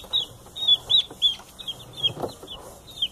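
Young chickens being caught and handled one by one give a string of high, short clucks and peeps in uneven bursts, close and fairly clear over a quiet background.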